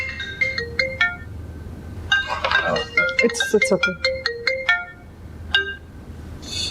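A phone ringtone plays a repeating melodic pattern of bright tones in an indoor scene, with a short spoken phrase partway through and the ringing resuming near the end.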